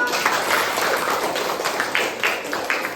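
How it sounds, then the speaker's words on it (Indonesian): Applause in a classroom during a lesson on prayer, a small group clapping unevenly with scattered individual claps, moderately loud and close, lasting throughout. "tepuk tangan untuk kita semuanya"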